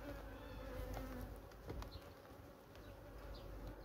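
A dense, steady hum of many honey bees buzzing around a hive, continuous and close, with occasional individual insects droning past.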